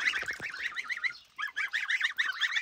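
Geese on a village farm honk loudly and close by in a rapid, continuous series of nasal calls, with a brief pause partway through and no talking.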